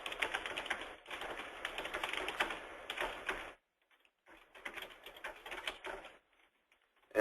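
Rapid typing on a computer keyboard, dense clattering keystrokes in bursts with a pause in the middle before resuming, close and clear with no talking.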